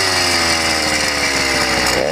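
A YD100 engine fitted with a ramped piston runs with a steady, loud, buzzing two-stroke drone that sounds rough and off, with pitch sweeps near the end.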